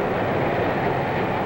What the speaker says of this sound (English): Freight cars behind its diesels.